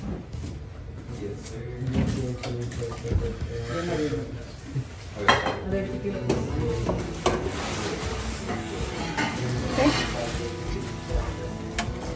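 Dosa batter cooking on a pan in a cabin kitchen, with clinks and scrapes of utensils, a faint sizzle and a few louder knocks under ongoing conversation.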